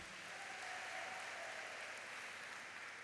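An audience at a Mar Thoma student conference applauds, a dense, even wash of clapping that holds steady and alone throughout, heard faintly.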